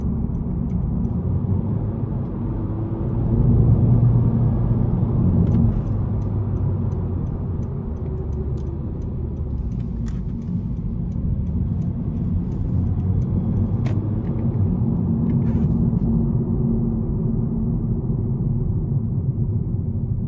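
A 2022 Honda Civic Sport 2.0 sedan's four-cylinder engine drones steadily from inside the cabin while driving, a continuous low rumble with road noise and a slight swell in revs early on.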